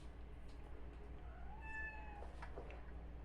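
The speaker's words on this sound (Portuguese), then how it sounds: "o gatinho passou derrubando tudo" A cat meows once with a rising, drawn-out cry, close and clear over a steady low background hum and some soft clatter of things being knocked around.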